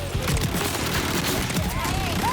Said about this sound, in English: Gun go burr.